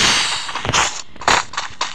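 Gunfire in the mobile battle royale Free Fire, a few sharp, loud shots in quick bursts over about two seconds, close and without talk.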